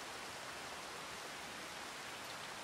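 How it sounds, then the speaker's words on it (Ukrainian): Steady, dense hiss of rain falling evenly throughout in the video game Farming Simulator 25, with no voices or other distinct sounds. "Опанки, дощ іде."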